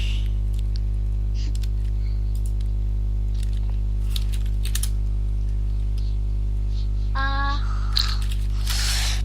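Short bursts of clicking keystrokes on a computer keyboard, close and fairly crisp, sitting over a steady loud electrical mains hum with no talking.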